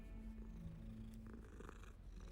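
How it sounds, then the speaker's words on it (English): A cat purring while being stroked in Hogwarts Legacy, a soft, continuous low rumbling purr, faint and steady, with no talking over it. "I'm just stroking a cat."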